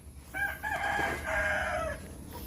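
A rooster crows once, a long drawn-out call at moderate distance over faint background noise.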